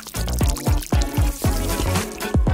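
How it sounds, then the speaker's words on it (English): Water pours into a detergent bottle serving as a doll's bathtub, a steady close splashing stream with repeated glugging gurgles as the bottle fills. "Just add water."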